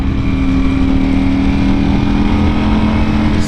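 A Ducati Panigale V4R motorcycle fitted with an Akrapovic exhaust on a test ride, its engine droning loud and steady at close range throughout, with no gear changes or sharp revs standing out.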